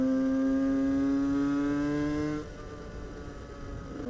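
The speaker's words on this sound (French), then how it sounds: "Donc maintenant là j'ai un moteur qui tourne nickel." A moped's two-stroke engine, fitted with a Carenzi piston and a Doppler cylinder head, runs close by with a steady high drone that drops in pitch and loudness partway through as it settles to idle.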